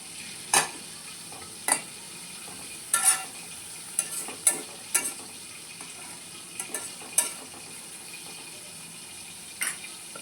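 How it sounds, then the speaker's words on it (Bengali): Mint leaves for chutney frying in a pan, spread out as they cook, with a steady faint sizzle and scattered sharp stirring scrapes and clicks; no talk. "এইভাবে আমি সুন্দর করে বিছিয়ে বিছিয়ে ভেজে নেবো"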